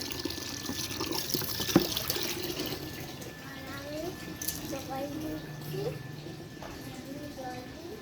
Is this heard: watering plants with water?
yes